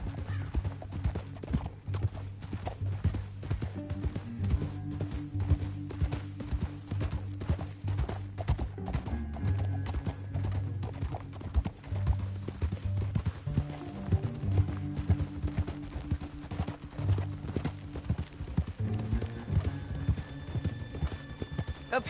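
Continuous clip-clop of several horses galloping at a steady, fast rhythm in the video game Red Dead Redemption 2, fairly loud and close, with low rumbling and occasional faint voices underneath.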